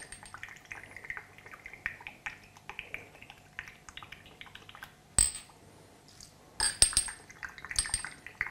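Soy sauce is measured into shot glasses and poured into bowls of soy meat: faint liquid trickles and drips, with sharper clinks of glass and utensils against bowls toward the end.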